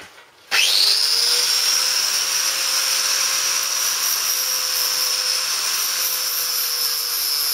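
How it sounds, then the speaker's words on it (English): Angle grinder grinding back a metal spray guard for a motorcycle in a garage, starting abruptly and then holding a loud, steady high-pitched whine close to the mic throughout. "Okay, let's grind it back."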